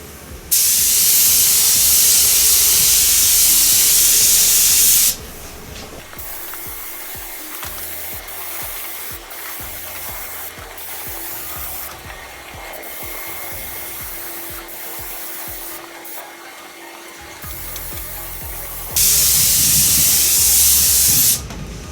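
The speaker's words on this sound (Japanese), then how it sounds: "スプレーするのってあっという間ですね" Spray paint hisses onto a Datsun 510 coupe under restoration. Two loud, steady bursts open and close the passage, and quieter hissing and rubbing work fills the middle, with no talking.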